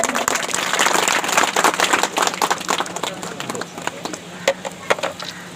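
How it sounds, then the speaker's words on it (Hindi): Villagers at the launch of the Lohia sanitation campaign applaud, first dense and fast, then thinning to scattered single claps nearby, with speech faintly underneath. "डीपीआरओ साहब ताली बजाइए।"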